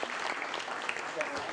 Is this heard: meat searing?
no